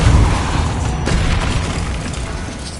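A heavy booming blast from the Repulsor spell in Hogwarts Legacy, a loud dense burst that rolls into a sustained rumbling wash with no talk over it.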